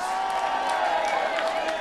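A festival crowd applauds and cheers for a group of women performers, a dense, sustained wall of clapping with occasional whoops, loud and steady throughout.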